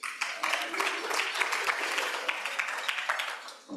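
Applause rises from the audience at a Rotary meeting, a dense, even clatter of many hands clapping close by that holds steady before tapering off at the end.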